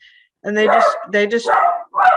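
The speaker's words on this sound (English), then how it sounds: "that's a dog," A dog barks close by in a run of loud yips and barks, broken by short pauses, while a person speaks briefly over it.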